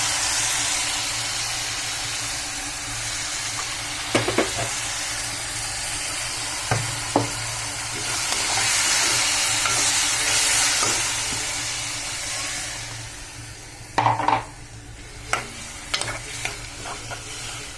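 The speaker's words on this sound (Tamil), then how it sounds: "இது நல்லா கொஞ்சம் கொதிக்கட்டும்." Tomato paste and water simmer in a pan, a steady close sizzle and bubbling hiss, broken by scraping stirs and occasional clinks of the spoon against the pan, with no speech.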